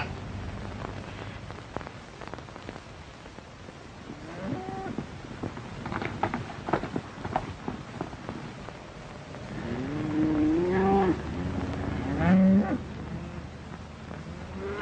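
Cattle on open brushland low out in a few drawn-out moos, mostly in the latter half, over a steady rain-like hiss and a low background rumble.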